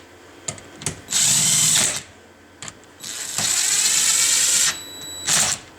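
A power tool or ratchet tightens bolts down during motor work, with several short mechanical bursts and two longer whirring runs, close and loud, with no talk.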